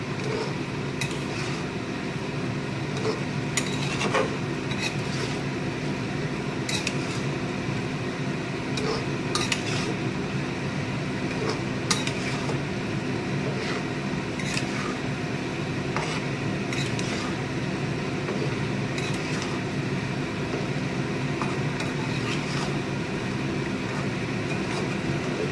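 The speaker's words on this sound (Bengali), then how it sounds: "এবার নেড়ে চেড়ে দেবো।" Utensil scraping and stirring food around a metal pan, a steady continuous rasp with occasional clinks, close and fairly loud throughout with no voices.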